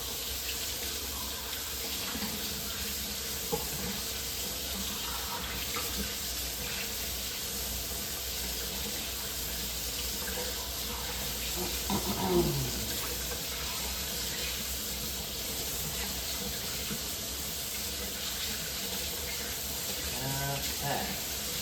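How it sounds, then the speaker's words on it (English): Hands being rinsed under a running kitchen faucet while making biscuits, a steady broadband rush of water that lasts the whole stretch, with faint splashing changes as the hands move in the stream. "And I rinse my hands off here."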